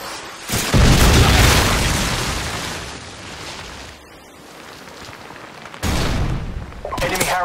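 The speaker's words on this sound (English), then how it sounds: "Friendly Predator missile inbound." In Modern Warfare 2's Estate ground war team deathmatch, a Predator missile explosion hits with a loud deep boom, followed by a rumbling decay and a second sharp blast near the end amid game noise.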